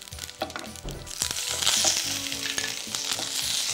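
Curry leaves and a broken red chilli with cumin and fenugreek seeds hit hot oil, giving a loud, close, continuous crackling sizzle with rapid popping spatters throughout, no voices.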